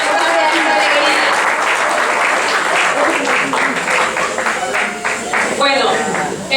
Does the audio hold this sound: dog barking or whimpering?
no